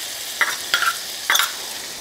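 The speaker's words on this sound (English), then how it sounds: "Just gonna continue to stir this to make sure that garlic doesn't burn" Garlic and one small diced shallot sizzle in butter in a pan, stirred in three quick scraping bursts over a soft, steady frying hiss, close and clear with no voices.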